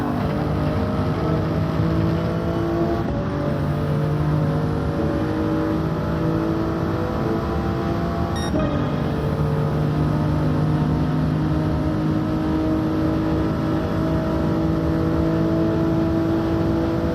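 A Toyota Supra race car engine in Gran Turismo 7: steady loud engine drone held at high revs, with brief shifts at two points, continuous throughout.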